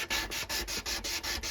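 A knife blade is rubbed with fine-grit sandpaper in quick, even back-and-forth strokes, about eight rasping passes, close and alone.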